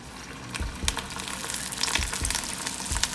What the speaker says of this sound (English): so now it's ready to cook the lumpia.